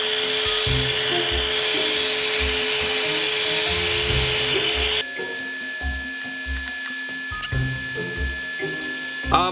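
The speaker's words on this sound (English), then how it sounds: "These would all be easily sucked up from the vacuum's normal nozzle right here" A handheld vacuum cleaner sucking cinnamon, fine dust, off a plate runs as a steady loud whine throughout, its tone shifting sharply midway as the nozzle catches the powder, with small rattles over the motor.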